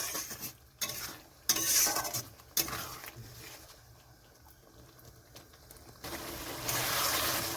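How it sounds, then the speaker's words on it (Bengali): Wet spice paste for a shankar (stingray) fish curry is stir-fried in a pan, with bursts of scraping and clanking spatula strokes over a steady sizzle that swells louder toward the end. "এখন মশলাটা এরকমভাবে কষাতে হবে।"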